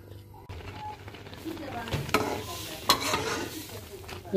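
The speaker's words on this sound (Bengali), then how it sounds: "তো মুগের ডালটা আমি ভেজে নিব" Mung dal frying in a pan, a continuous dry sizzle with stirring scrapes and occasional sharp clicks of a spoon.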